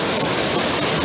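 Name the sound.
Torboll waterfall in Scotland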